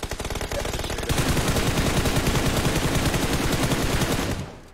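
Rapid automatic gunfire in a video game rattles out in dense, continuous bursts for about four seconds, loud and close with no voices over it, cutting off abruptly at the end.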